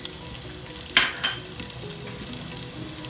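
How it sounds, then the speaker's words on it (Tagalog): Garlic and onion frying in a little olive oil give a steady close sizzle, with a sharp burst of crackle as they hit the pan, then a continuous hiss. "Sasabay na po natin lalagay yung ating bawang sibuyas."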